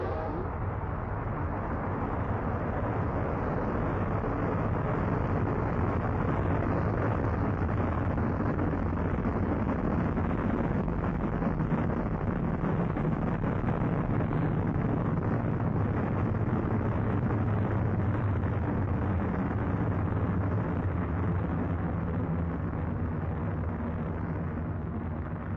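A rocket's main engines roar at liftoff as a loud, steady, broadband rumble that holds unbroken for the whole stretch, with no voices over it.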